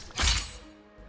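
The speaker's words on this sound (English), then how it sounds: "The shattering effect breaks all boundaries of how cool a character can feel through one single attack." A shattering attack effect from the video game Punishing: Gray Raven gives one brief, fairly faint burst of breaking, crackling noise with a low thump, then fades quickly.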